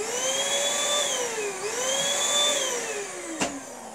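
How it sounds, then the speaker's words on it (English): Small vacuum cleaner running steadily with a high whine whose pitch rises and falls in smooth waves, loud and close, with a brief bump near the end. "This vacuum is a small one"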